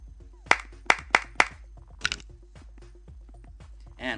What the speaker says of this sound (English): take another clap.